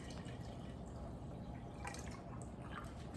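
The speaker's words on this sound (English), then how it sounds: "I'm gonna pour the water into another vase again" Water pours from one vase into another while arranging flowers, a soft steady trickle with scattered drips over a low background hum.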